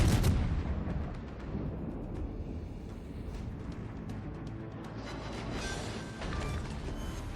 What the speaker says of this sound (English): I am firing from 12 kilometers away